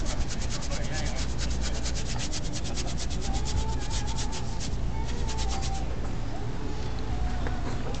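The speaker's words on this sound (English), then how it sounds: "Trying to scrub, make sure there's no white coming through that canvas." Stiff paintbrush scrubbing paint onto a canvas for a Hawaiian valley sunset painting, a steady close rough rubbing texture with rapid repeated strokes running throughout.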